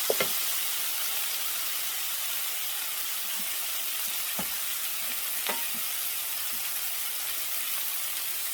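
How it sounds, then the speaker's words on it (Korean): Scallion, onion and soy sauce are stir-fried in a pan for kimchi stir-fry, giving a constant close sizzling hiss with a few soft clicks and scrapes of stirring. "파와 양파를 파기름을 낸 다음에 지금 간장을 넣어줬습니다."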